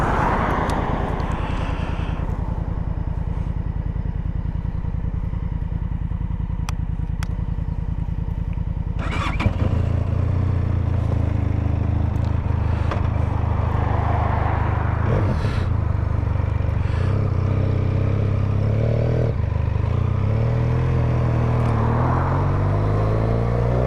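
A 2023 Benelli 502TRK adventure motorcycle being ridden on the road, its engine a steady close drone that shifts and climbs in revs partway through as it pulls away, with no talking.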